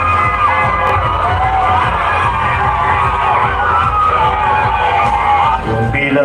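Large outdoor crowd at a free political rally concert in Carcar City cheering, whooping and shouting continuously, loud and dense, with many voices blending into a steady roar throughout.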